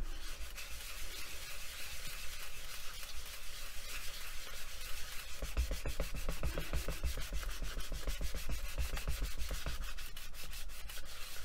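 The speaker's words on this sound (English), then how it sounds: "I will give it a little burnish just so that I know that the surface is" Steady close rubbing of a burnishing tool over the surface of a polymer clay mokume pendant, a continuous soft scraping that turns into quicker, rhythmic strokes partway through, no talking.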